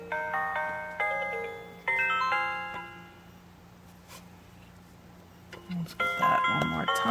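A Hallmark Gumdrop Gingerbread House light-and-sound toy from 2008 plays Sugar Plum Fairy as bright, tinkling electronic chime notes in short melodic phrases, then stops with a soft click before another burst of tones begins.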